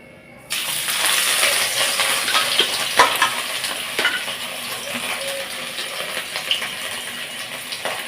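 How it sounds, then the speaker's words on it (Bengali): After a brief quiet moment, turmeric-and-salt-rubbed fish pieces hit hot oil with a loud, close sizzle that keeps crackling and popping in sharp bursts with no talk over it. "তেলটাও গরম হয়ে গেছে এখন একটা একটা করে ছেড়ে ভেজে নেবো"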